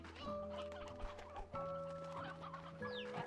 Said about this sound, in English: they have a lot of chickens in here as well